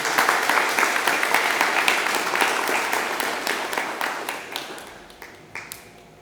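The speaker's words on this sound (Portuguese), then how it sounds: "Vamos aplaudir a palavra de Deus?" Church congregation applauding, with rhythmic unison clapping at a quick steady beat that starts loud and gradually thins and fades as fewer hands keep going.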